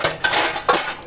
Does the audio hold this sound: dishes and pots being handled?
yes